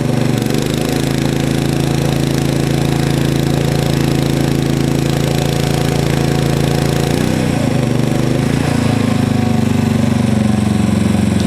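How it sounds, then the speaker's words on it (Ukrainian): A KEMAGE KM5000io inverter generator runs under load with a steady, loud mechanical drone and hum, its pitch shifting briefly as the load changes near the end. "Ось так він працює під навантаженням."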